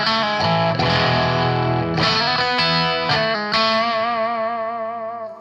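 Telecaster electric guitar played through a Metropoulos Metro Plex 100 amp with a crunchy 70s rock tone, loud and close, with ringing chords and a few rhythmic strums that sustain and fade at the end.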